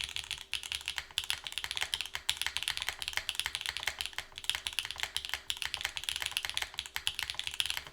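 Rapid, continuous keystrokes on a wooden keyboard prototype, with crisp clacky alpha keys and occasional heavier thumps, likely the spacebar, playing steadily and close up with no voices.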